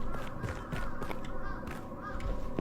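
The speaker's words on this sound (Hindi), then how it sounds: "कहीं से कौवों की आवाज आ रही है यार" Crows cawing in a horror video game, a few harsh calls repeating over a low droning ambience, moderately distant and faint, with no talk.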